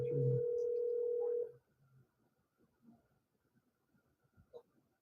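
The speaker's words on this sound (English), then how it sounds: "Hold on, it's ringing." A single steady ringback tone on an outgoing telephone call, loud for about a second and a half, then cutting off to faint low background noise.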